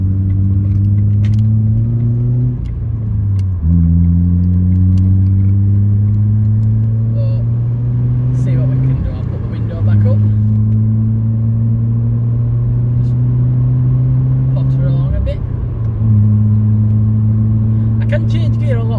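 A car with a worn gearbox drives along a bypass, its engine droning loudly up close and climbing in pitch, then dropping at each of several gear changes.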